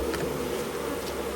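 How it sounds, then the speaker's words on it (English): Honeybees buzz steadily at a hive being smoked during the introduction of a caged queen, a close, continuous drone with no voices over it. "Just smoke the bees down."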